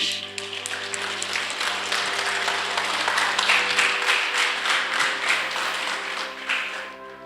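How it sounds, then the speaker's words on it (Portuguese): Church congregation applauding during a Christmas service nativity scene, a sustained wash of clapping over held organ or keyboard chords, fairly even in loudness. "Vamos aplaudir?"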